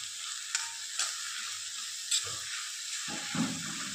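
Grated carrot sizzles softly in ghee for carrot halwa, a steady gentle hiss close by, broken by a few light clicks and scrapes as a spoon stirs the pan.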